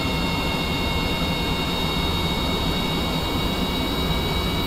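A simulated jet engine in Kerbal Space Program drones steadily as it is throttled down, a dense, even roar of broadband noise with thin high whines running through it and no talk over it.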